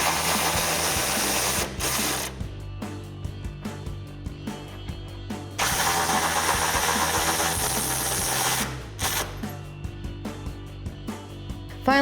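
Ratchet fitted with an 18mm socket spinning off the rear bumper nuts on a 2019-2024 Chevrolet Silverado 1500, close and loud, with fast clicking bursts broken by short pauses and a few lighter ticks between runs.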